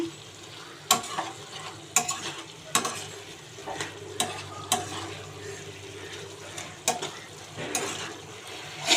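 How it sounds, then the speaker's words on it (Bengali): A spatula stirs potato and spice paste seasoned with Kashmiri chili powder in a hot pan, with a continuous low sizzle and roughly ten loud, close scraping strokes at irregular intervals, and no voices. "এবার একটুখানি কাশ্মীরি লঙ্কার গুঁড়ো দিয়ে দিলাম ভালো করে নাড়াচাড়া করে"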